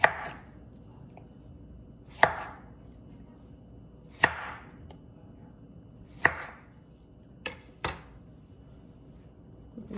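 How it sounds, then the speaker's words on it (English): A knife slices through a plantain at an angle, making six crisp, close chopping knocks on a cutting board, spaced about two seconds apart with quiet between them. "Cutting at an angle."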